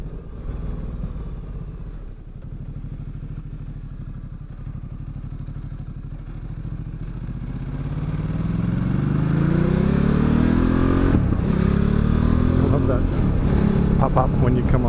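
A motorcycle engine on a ride builds from a steady low drone into a loud, rising rev as the throttle opens, with someone talking over the engine throughout.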